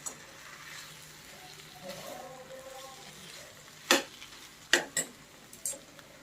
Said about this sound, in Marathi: आपण या भाज्या हलवून घेऊया